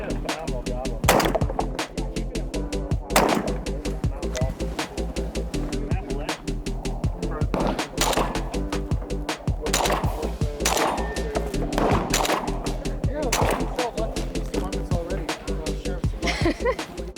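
Sharp shots from a Beretta 1301 Tactical shotgun ring out in a rapid string of loud, evenly spaced reports that run through the whole stretch.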